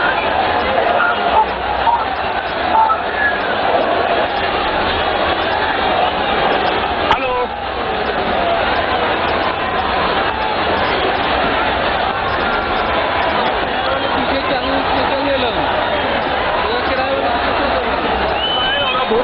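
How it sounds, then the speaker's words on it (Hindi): Huge crowd packing the Varanasi streets during PM Modi's road show, a continuous outdoor din of chatter and cheering with vehicle noise, under a reporter talking close up throughout. "भूतपूर्व भीड़ यहाँ बनारस की सड़कों पर नजर आने लगी है।"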